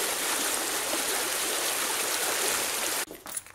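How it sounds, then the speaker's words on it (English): A fast-moving creek in the Black Hills rushes nearby in a steady, bright wash of water that cuts off abruptly near the end. "And a fast moving creek."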